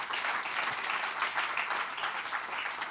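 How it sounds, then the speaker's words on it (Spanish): A church congregation claps in loud, sustained applause, a dense steady patter of many hands with no break from start to end. "Den un aplauso fuerte al Señor."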